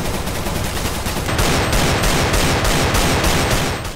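Rapid CZ pistol fire mixed with heavy Desert Eagle shots in a video game, a dense, loud, continuous volley of gunfire lasting several seconds with no talk.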